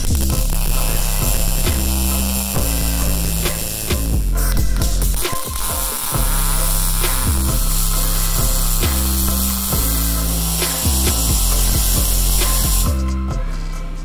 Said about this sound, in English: So I'm going to go and buzz a few welds on here